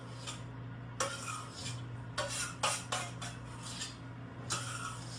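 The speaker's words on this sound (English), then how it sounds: "we're going to take our dressing and we're just going to get that in here. And then we're going to mix it up" Metal utensil scraping and clinking against a bowl while dressing is stirred into keto coleslaw, several sharp clatters and scrapes at irregular intervals over a steady low hum, no talking.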